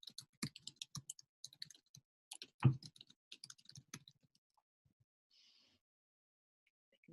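A computer keyboard clicks in short bursts of light taps, quiet and close, with a brief pause and a soft isolated click near the end.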